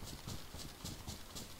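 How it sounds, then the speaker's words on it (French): A horse gallops in a rapid, rhythmic clatter of hoofbeats during a hunting outing, faint and steady across the brief moment. "tu t'es remis à galoper"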